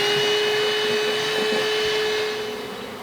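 Honey bees fill a bee trap with a dense, continuous buzzing drone, close and loud, holding steady before easing slightly toward the end.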